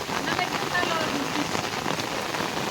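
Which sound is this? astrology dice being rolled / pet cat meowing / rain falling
rain falling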